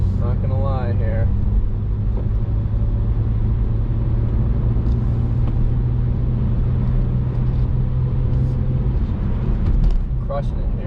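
A Jaguar XF drives through snow and slush, giving a steady loud road and engine rumble with tire hiss throughout, while a voice speaks briefly near the start.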